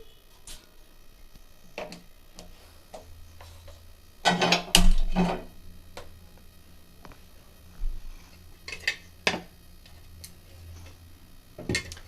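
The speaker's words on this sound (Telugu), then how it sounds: "ఇప్పుడైతే స్టవ్ మీద ప్యాన్ అనేది పెట్టుకొని ఆన్ చేసుకుందామండి" A pan is set down on a kitchen stove while bitter gourd fry is being cooked. There is one clattering metallic knock near the middle, surrounded by faint, scattered ticks and clicks. Nobody speaks.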